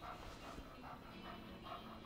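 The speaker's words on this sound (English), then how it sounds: "It's a puppy!" Puppy in the video game Life is Strange 2, panting steadily and fairly loud in a rhythmic, breathy loop for a couple of seconds with no talking.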